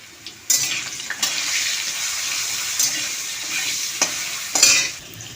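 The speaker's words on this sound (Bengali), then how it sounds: "এবার আলুর মধ্যে নুন আর হলুদ দিয়ে ভালো করে ভেজে নেব" Potato pieces fry in a pan of oil with salt and turmeric, making a steady hiss broken by several sharp spoon or spatula knocks against the pan.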